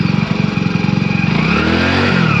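A motorcycle engine chugs with a rapid pulsing beat, then revs up smoothly as the ride pulls away, loud and close.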